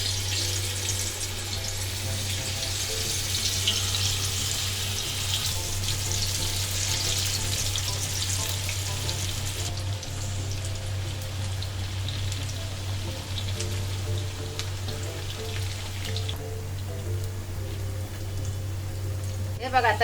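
Alu vadi rolls fry in hot oil in a pan, a steady bubbling crackle and hiss running throughout, fairly close, with someone speaking at moments.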